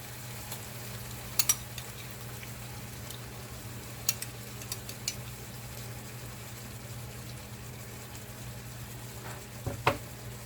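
Sliced canned mushrooms frying with onions and their juice in a pan for a chicken thigh stir fry, a steady even sizzle going on alone, with a few light clicks of stirring.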